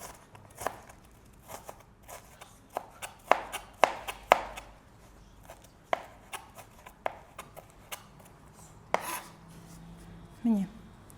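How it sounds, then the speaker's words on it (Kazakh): Onion being chopped into cubes with a knife on a cutting board, irregular sharp knocks spaced a second or so apart, close and clear with no talking. "Пиязды майдалап турап, оны да текше түрінде"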